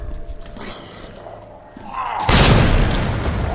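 A grenade explodes in Resident Evil 2, a sudden loud boom that breaks a quieter game scene and fades into a long rumbling tail.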